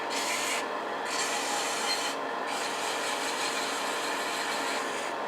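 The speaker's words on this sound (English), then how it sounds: "let's sand and polish this before we worry about the tenon. Starting with 240." Sandpaper at 240 grit rubbing against a wooden ornament finial spinning on a lathe, a steady close rasping hiss that runs continuously with a couple of brief dips.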